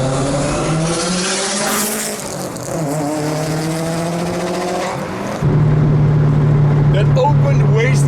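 A 500 hp 2008 Subaru WRX with an open wastegate and a large front-mount intercooler runs loud and close, its engine tone rising and falling as it revs, ending in a sustained droning pull.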